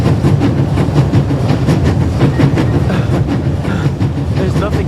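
A train travels in The Raven adventure game, with a loud, continuous rumble and a steady rhythmic clickety-clack of wheels on rail joints throughout.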